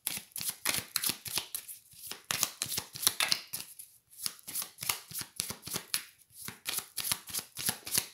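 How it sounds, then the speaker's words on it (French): Tarot cards being shuffled by hand in repeated quick riffling bursts, crisp and close, with brief pauses between rounds and no talking. "Alors, je vais mélanger les cartes."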